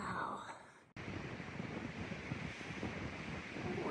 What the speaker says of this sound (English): that wind's whipping now